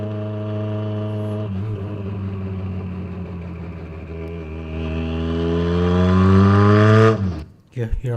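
A car with sequential shifters, recorded at its second exhaust, climbs in one long loud rev close to the microphone, then drops off sharply with a short burst of crackle afterward.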